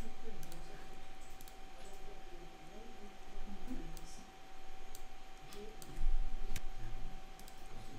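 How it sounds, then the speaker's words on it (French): A computer mouse gives several sharp, scattered clicks over a steady electronic hum, with quiet talking in the background. "Vous cliquez là sur elle pour faire apparaître le panneau"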